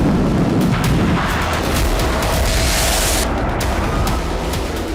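A long-range interceptor missile test launch: a loud, continuous, roaring rumble that fills the whole stretch, close and unbroken, with no talking.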